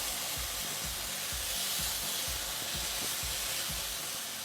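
Oyster mushrooms sizzling and frying in a wet sauce in a pan, a steady close hiss with soft repeated scrapes and bubbling as they are stirred, no talking.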